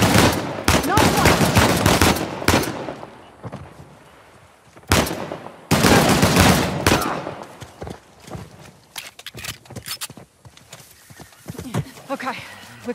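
Gunfire rattles during an ambush firefight in the video game Uncharted: The Lost Legacy. Loud rapid bursts and single shots come in clusters, mixed with shouting voices.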